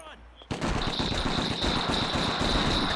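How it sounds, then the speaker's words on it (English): Rapid automatic gunfire in the PS2 game 25 To Life cuts in abruptly after a brief quiet moment and then rattles on as a dense, continuous, close and loud burst. "I'm just shooting at nothing right now"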